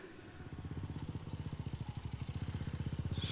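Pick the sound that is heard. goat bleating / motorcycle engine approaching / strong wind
motorcycle engine approaching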